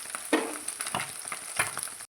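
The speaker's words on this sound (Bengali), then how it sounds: "একটু ভালো করে লাল লাল করে ভেজে নেব" Small chuno fish fry in a pan of oil, crackling in a close, continuous sizzle with a few sharper spitting bursts over a couple of seconds.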